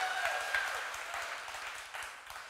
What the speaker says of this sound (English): Put your hands together and clap.